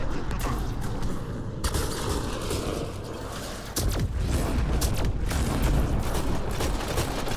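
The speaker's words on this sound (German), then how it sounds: "Alles explodiert." Dense rumbling explosions and booming blasts fill a Mass Effect Andromeda battle, loud and continuous with sharp bursts layered over a steady roar.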